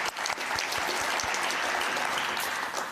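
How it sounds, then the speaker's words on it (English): A conference audience at a boxing congress applauds the Philippines, dense sustained clapping from a crowd that holds steady for a few seconds before tapering slightly. "So let's also please give a round of applause for the Philippines."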